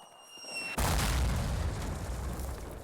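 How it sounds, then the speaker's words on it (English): A mortar explosion in Call of Duty 1 breaks a quiet moment with a sudden heavy boom, then a loud, rumbling roar that carries on steadily afterward. "Mortars! Mortars incoming!"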